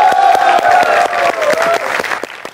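Studio audience at a tech quiz show grand finale breaks into loud applause, a dense, rapid patter of clapping with some cheering and whoops mixed in, sustained throughout.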